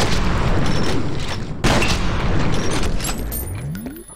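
Frag grenade going off in the shooter game F.E.A.R., a loud near blast with rumbling debris amid ongoing gunfire and mechanical clatter, followed by a rising whine as the noise trails off.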